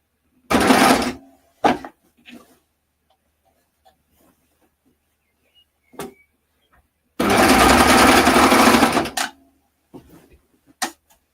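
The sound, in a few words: overlocker sewing and cutting through fabric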